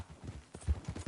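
Horse hooves clip-clopping on a dirt street in Red Dead Redemption 2, a steady trotting rhythm of soft low thuds that grows slightly heavier toward the end, close by with no talk.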